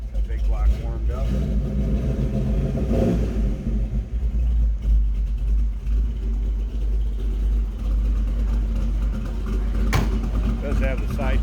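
A 1955 Chevrolet 1500 street rod's warmed-up big block V8 with side dump exhaust rumbles steadily in deep low tones, idling with slight swells, while someone talks over it close by.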